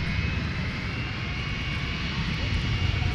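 A jet airliner on takeoff at Minneapolis–Saint Paul airport, runway 17, heard as a steady, fairly distant engine roar without breaks.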